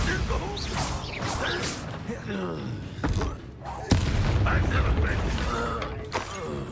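Bombarda explosion spells going off in the Hogwarts Legacy video game, with loud blasts and crashing impacts, the sharpest burst midway through, over continuous game music, effects and voices.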